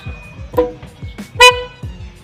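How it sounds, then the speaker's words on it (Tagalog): Short horn toots over an idling engine: a faint beep, then a couple of brief louder honks, close by. "Para sa busina yan guys."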